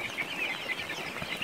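Korean blue-egg chickens cluck and murmur softly nearby in a continuous, busy chatter with no talking.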